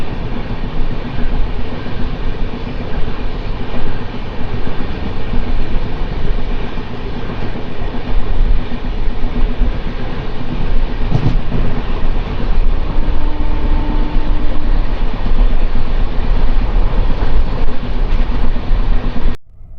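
Kacheguda–Murudeshwar express 12789 running on single track past Manyamkonda station, a steady loud rumble of wheels and carriage noise throughout, heard from inside the train with faint rattles and no talk.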